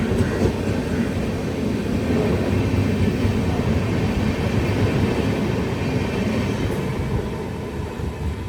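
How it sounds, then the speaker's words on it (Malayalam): A passing Pune Express passenger train rumbles steadily and loud, a continuous broad roar of wheels and carriages with no talking. "കണ്ട പൂനെ എക്സ്പ്രസ് അതാ പോകുന്നു"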